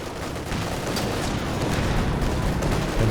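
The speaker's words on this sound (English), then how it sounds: "Double anti-tank guns here, and they're ripping in." Anti-tank guns in Company of Heroes 2 fire into a dense, continuous battle din, with low booms and rumbling impacts piling up closely with no clear gaps.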